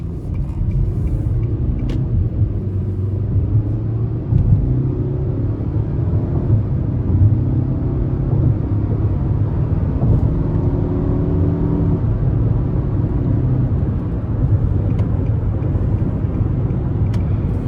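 From inside the cabin, a 2025 Nissan Altima S with an Xtronic CVT accelerates under moderate throttle, giving a loud, steady engine rumble and whir that climbs smoothly in pitch with no gear shifts.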